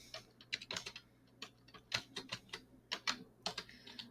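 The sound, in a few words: typing on a computer keyboard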